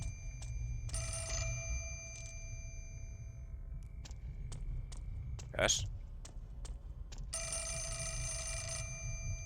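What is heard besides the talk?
telephone ringing in a video game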